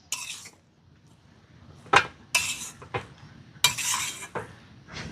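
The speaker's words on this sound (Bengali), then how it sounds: "খুব ভালো করে বিট গাজরের সাথে আলুটাকে মিশিয়ে নিতে হবে" Boiled potato is mixed with beetroot and carrot in a bowl, with a utensil scraping and clinking against the dish in short, separate bursts between quiet pauses.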